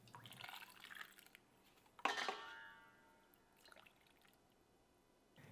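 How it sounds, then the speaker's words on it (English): Brine is poured over cucumbers in a jar for sous vide pickles, a quiet splashing pour with a brief louder gush of liquid, then soft trickles fading out. "Now you add the brine to cover the cucumbers."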